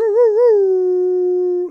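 A small dog howls in one long, steady, wavering note that wobbles at first and then holds level for over a second before breaking off, close and fairly loud with no talk over it.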